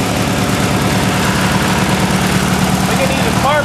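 A Briggs & Stratton engine on a Bolens tractor runs steadily nearby, a loud, even chugging idle with vibration, and a voice briefly speaks near the end.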